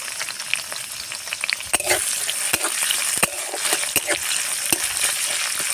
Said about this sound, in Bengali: এবার আমি দিয়ে দিচ্ছি পেঁয়াজ